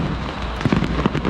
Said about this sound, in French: Mais c'est des feux d'artifice.